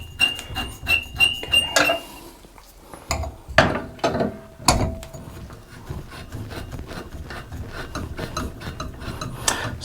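A bathtub diverter being unscrewed makes a run of close metallic clicks, scrapes and ratcheting rubs in irregular bursts, with a few sharper clanks, and no voices.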